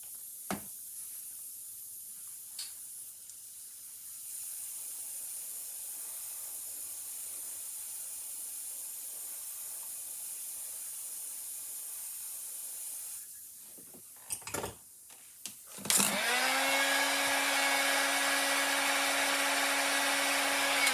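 An airbrush sprays ink and paint onto a small hologram fishing lure, a steady faint hiss for long stretches, broken by short clicks and bursts near the end, then a louder sustained hiss and hum.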